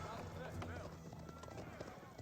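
Horses galloping in the video game Age of Empires 4, soft rhythmic clip-clop hoofbeats under battle noise, faint and somewhat distant.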